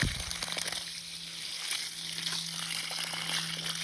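Water draining out of a waterline at a water tank before freezing weather, a steady gushing, sizzling trickle running continuously at close range with no voices.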